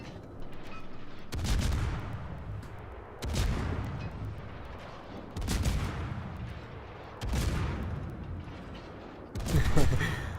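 Heavy 203mm guns of the Udaloi cruiser boom in five separate salvos roughly two seconds apart in a naval battle video game, each blast loud and broadband with a rumbling tail.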